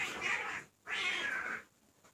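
Cats fighting over a bone, with two loud drawn-out yowling meows separated by a short pause, close by and with no voices.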